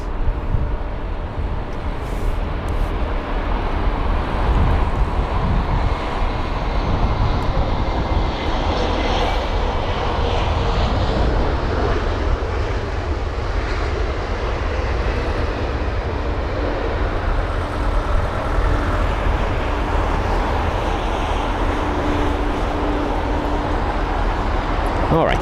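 An Airbus A320 airliner fitted with retrofitted winglets roars past at Heathrow, a loud sustained jet-engine rush that stays strong for the whole stretch, with a voice speaking over it.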